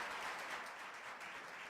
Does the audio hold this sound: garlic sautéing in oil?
no